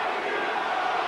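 The arena crowd at the Naseem Hamed vs Augie Sanchez boxing fight roars in a loud, sustained wall of shouting that swells steadily, with a commentator's voice mixed in.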